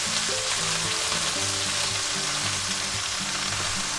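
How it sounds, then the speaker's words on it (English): London broil steak searing in a cast iron skillet, a loud, close, unbroken sizzle and hiss with no talking, a faint tune running underneath. "That's a beautiful sear. That's what you get with a cast iron skillet right there."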